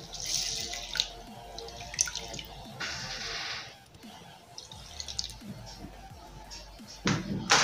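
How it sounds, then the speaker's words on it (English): Water poured from a tap into a glass cup of lentils set to soak, splashing in several bursts with drips and pauses between, close by, ending with a short knock or slam. "So I'll add some amount of water in here to soak."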